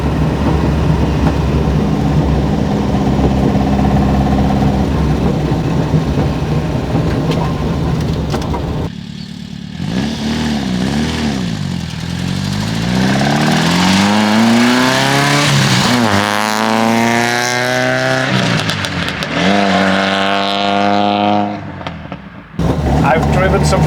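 A loud Alfa Romeo 33 race car engine drones steadily, then revs hard through rising and falling pitch sweeps as it accelerates through gears on the road, close and continuous.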